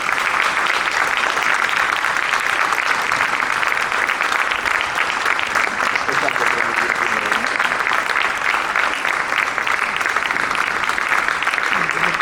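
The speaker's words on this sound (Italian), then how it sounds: "Quindi intanto li chiamo sul palco e vi chiedo un applauso." Award ceremony crowd applauding as winners are called to the stage, loud dense clapping sustained the entire time, with some voices faintly mixed in.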